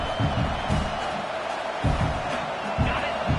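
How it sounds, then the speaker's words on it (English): A college football stadium crowd, Alabama fans, roars in a broad, continuous wash of noise with swelling bursts and thuds, while a commentator's voice talks over it throughout. "This crowd bringing the energy and noise early"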